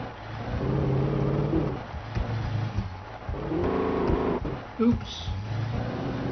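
Car driven in the video game Alan Wake on PC, a steady engine rumble with revving swells and a brief bump near the end, with someone talking over it.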